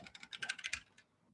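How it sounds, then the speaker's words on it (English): Rapid, uneven taps on a computer keyboard come in a short burst under a second long, close and distinct, then stop into near silence. "Typing is hard today."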